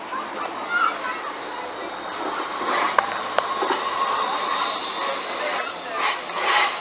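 A train moves through a British railway station, a steady rumbling, rolling wash with a couple of sharp metallic clicks, fairly close, while a person talks in the background.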